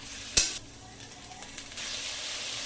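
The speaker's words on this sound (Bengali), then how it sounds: "মুগ ডালগুলো দিয়ে একটু নাড়াচাড়া করে নেব" Whole green mung dal frying in a pan as it is stirred, opening with a sharp clack of a spoon on the pan, then a steady hiss of sizzling that grows stronger toward the end.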